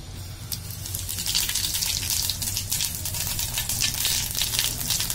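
Cumin seeds sizzle in hot oil in a home kitchen pan, a steady crackling hiss that rises slightly and holds for a few seconds, close and moderately loud, with no talking.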